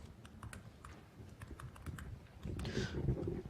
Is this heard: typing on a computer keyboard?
yes